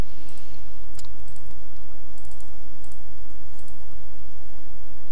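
Computer mouse clicks made during image-editing work: a handful of sharp, light clicks, some coming in quick pairs, heard close over a loud steady hum with no voices.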